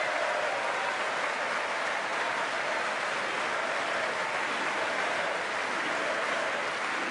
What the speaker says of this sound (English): Clapping, Pelosi clapping.